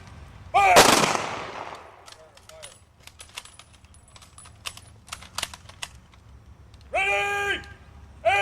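A rifle volley fired as a memorial salute at the Vietnam Wall in Lake City, Minnesota, heard as a loud sharp report near the start, followed by faint clicks of rifle actions, with another burst near the end.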